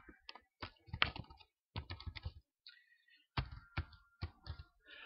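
Fingers tap out VBA macro code on a computer keyboard in uneven bursts of close, crisp keystrokes, with short pauses between runs of typing.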